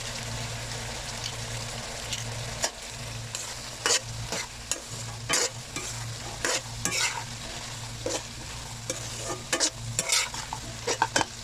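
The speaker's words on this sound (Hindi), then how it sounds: "अल्हम्दुलिल्लाह जी हमारी सब्ज़ी फ्राई हो रही है।" Vegetables with masala and chicken cubes fry in a pan under a steady, close sizzle, broken by frequent scraping knocks of a spoon stirring the mix.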